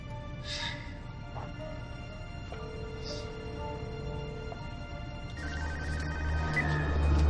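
A telephone rings during a tense crime-thriller scene, a steady electronic ringtone over a low droning film score, fairly loud and continuous with no talk over it.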